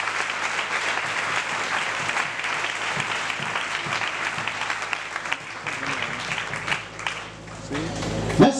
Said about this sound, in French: Applaudissez tous s'il vous plaît.